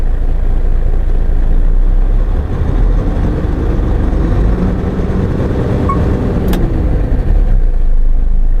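A Hino diesel commercial truck engine held at raised revs with the accelerator pressed, a loud, steady, close rumble that drones on without a break.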